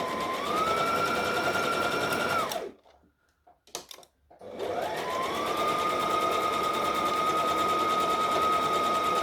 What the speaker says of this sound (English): And we're back stitching there as well.